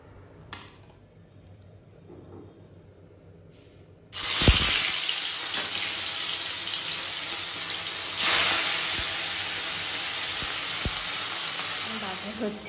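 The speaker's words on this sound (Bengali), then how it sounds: "এখন এই মাছটাকে ভেজে রাখবো।" Fish frying in oil in a wok in a home kitchen, a loud, steady broadband sizzle that starts abruptly and then swells partway through, running continuously with no talk.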